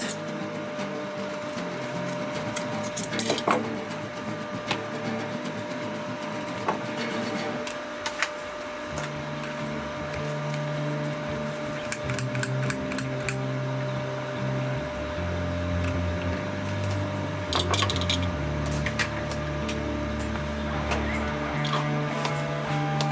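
A sewing machine stitching webbing onto backpack fabric for a rollup backpack, its motor whirring in long continuous runs with short pauses between them, close and fairly loud.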